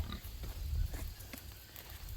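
Pig grunting on a farm in the woods during breeding season, low rough snorts repeating in short bursts over a steady outdoor background, fairly close.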